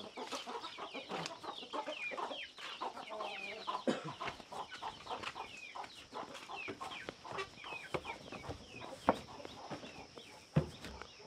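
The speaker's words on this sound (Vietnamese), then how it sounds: "bây giờ còn một đàn gà đúng không?" A flock of chickens clucks and calls on a rural farm, overlapping bursts of clucking and sharp squawks scattered irregularly, fairly close, with no speech.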